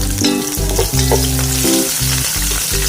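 Sliced ginger frying in a pan, a loud close sizzle with crackling and stirring scrapes throughout, no voices.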